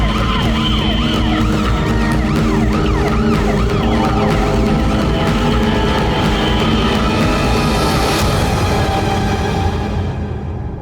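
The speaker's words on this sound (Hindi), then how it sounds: "एम्बुलेंस आई क्या?" An ambulance siren wails loudly and continuously with rising and falling sweeps, close by, with traffic rumble underneath and no talking.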